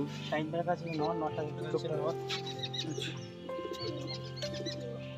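Pigeons from four different Pakistani bloodlines coo and chirp softly at close range, their calls mixed under steady talking throughout.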